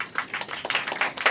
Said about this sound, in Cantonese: 我哋再次掌聲